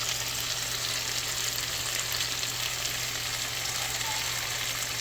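Bagoong shrimp paste frying in a little oil, a steady close sizzle that runs without a break, with faint talk beneath it.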